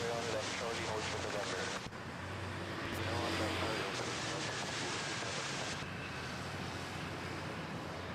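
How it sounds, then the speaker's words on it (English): An Airbus A330neo of Cebu Pacific arrives at Manila airport with a broad, continuous jet roar that swells slightly and holds steady throughout, with no one speaking. "Cebu Pacific A330 Neo, arriving from Hong Kong."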